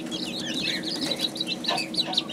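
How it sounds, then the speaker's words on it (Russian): Many young Kuchinsky Jubilee chicks peep at once in a dense, high-pitched chorus, continuous and fairly close, with no talking. "Такие вот у нас кучинские юбилейные цыплята."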